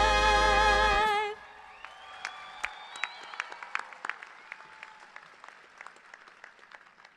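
At a 2024 CSUN commencement ceremony, a crowd breaks into applause with scattered cheers and whoops as a loud sustained musical chord cuts off, and the clapping carries on at moderate distance.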